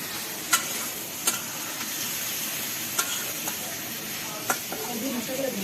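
Spiced potato and eggplant stirred in a hot pan give a soft continuous sizzle, broken by about five sharp spatula scrapes and clacks against the pan at uneven intervals.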